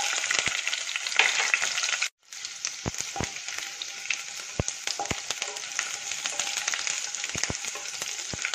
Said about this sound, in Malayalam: ഓയിൽ ചൂടാകുമ്പോൾ വെളുത്തുള്ളി ഇട്ട് കൊടുക്കാം.